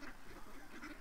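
Farm ducks, including fawn-coloured birds, quacking loudly and continuously in a dense overlapping chorus close by, with no talk.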